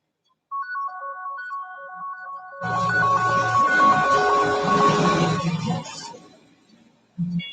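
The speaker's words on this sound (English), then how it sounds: "Let me answer the phone" A telephone ringtone plays a bright repeating electronic melody, then a fuller, louder ringing burst, close and alone without talk.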